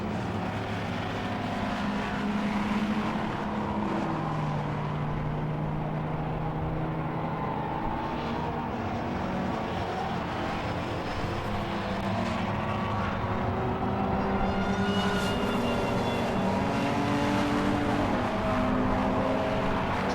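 Classic pre-1983 touring cars race at Silverstone, several engines roaring and droning loudly and continuously as they pass, with rising and falling pitch throughout.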